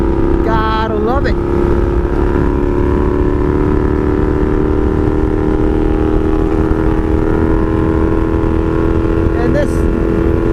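A 1982 Honda Magna V45 VF750C V4 motorcycle rides along on a cloudy day with a clutch losing pressure, its engine droning steadily and loudly with wind rush, and short rising rev sweeps near the start and end.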